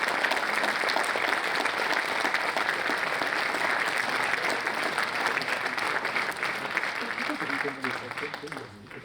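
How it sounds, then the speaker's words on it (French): Audience applause at a mayor's New Year wishes ceremony in Alpe d'Huez: sustained, loud clapping from a crowd that carries steadily throughout, thinning slightly near the end as a voice begins to come through. "je vous remercie de les applaudir encore une fois"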